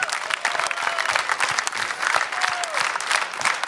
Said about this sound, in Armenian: Ծափարենք ես տաղանդավոր մարդ